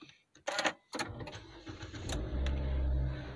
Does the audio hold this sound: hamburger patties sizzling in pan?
no